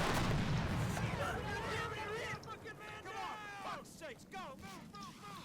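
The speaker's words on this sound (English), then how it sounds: "Oh, the tank is shooting back." A tank firing back at AT-4 anti-tank teams in the Combat Mission wargame, a heavy cannon blast at the start followed by rumbling impacts, with someone talking over the battle noise.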